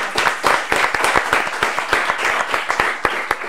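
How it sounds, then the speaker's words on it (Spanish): A live comedy show audience breaks into lively applause, many hands clapping in a dense, uneven patter with sharp individual claps standing out, fairly close and continuous for a few seconds. "Un aplauso, por favor"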